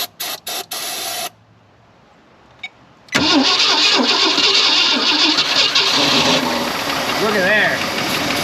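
A 1965 Ford Thunderbird engine, primed with starter fluid, catches after a few brief cranking bursts and a pause, then roars loudly and runs unevenly close by, with a voice heard over it.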